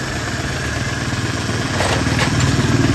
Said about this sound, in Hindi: इंजन जो है इतना ज़्यादा इसलिए वाइब्रेट कर रहा है, जैसे जैसे इंजन चलता जाएगा, रमा होता जाएगा, इंजन स्मूथ होता जाएगा।